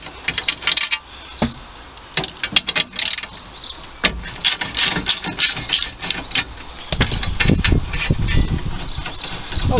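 Hand ratchet undoing 13 mm nuts and bolts on a Volvo XC90 battery retaining plate, giving repeated close metallic clicking and clattering bursts with short pauses between turns.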